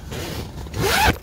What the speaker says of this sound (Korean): 지퍼로다가 열면은 또 안에가 네. 이렇게 쫙 올라